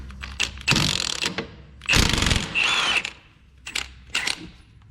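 A ratchet turns 21 mm caliper bracket bolts on a Buick Verano during a wheel bearing replacement, with close, bursty mechanical whirring and clicking in several short runs, separated by quiet handling noises.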